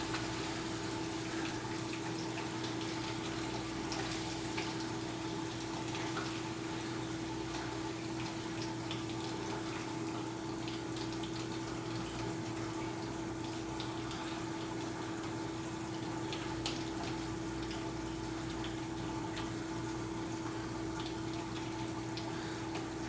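Water drains steadily through a BeanAnimal siphon drain on an aquarium, a constant gurgling, rushing flow with a faint hum, even and unchanging throughout, with no voices.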